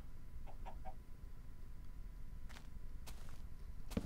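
Chickens in the Minecraft video game cluck in short clipped bursts, a quick triple cluck early and scattered single clucks later over a constant low background hum.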